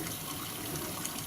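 Hot water pours from a tap into a clogged kitchen sink in a condominium, a steady full rushing gush, close and continuous with no speech.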